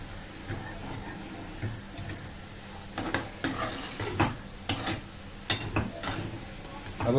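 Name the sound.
chicken mince with spices frying in a pan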